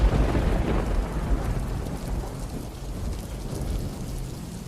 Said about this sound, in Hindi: इस तेज बारिश की बूंदें जैसे सुइयों की तरह मेरे शरीर पर चुभ रही थी।